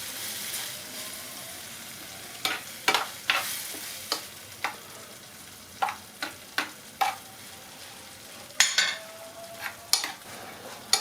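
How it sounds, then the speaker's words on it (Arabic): Tomato, onion and spices frying in a pan for a minced turkey meatball and aubergine tagine, a steady soft sizzle broken by repeated sharp scrapes and clinks of stirring, close and alone. "وغنديرو هاد المطيشه اللي حكينا مع البصله"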